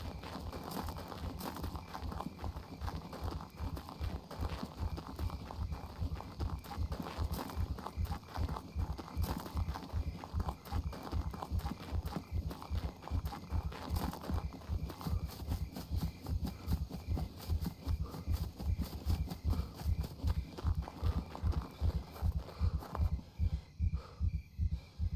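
Horse hooves clip-clopping in the survival game SCUM, a steady rhythmic run of many regular hoofbeats going on for the whole stretch, fairly quiet and close, with little else around them.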